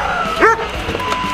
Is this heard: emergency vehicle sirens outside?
no